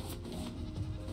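A goat in the Raft video game gives a short, faint bleat over a low background hum.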